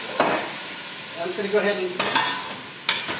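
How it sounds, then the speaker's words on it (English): Cognac poured into a hot pan of risotto rice for a monkfish and pea risotto, giving short bursts of sizzling and a stirring scrape, with a voice speaking briefly over the cooking sounds. "Time to liquor up the food, and it's sizzling!"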